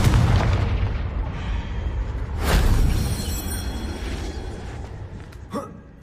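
A Confringo blasting spell in the Hogwarts Legacy video game explodes with a deep rolling boom that swells midway, followed by smaller bursts and a sharp crack at the end, with no talking.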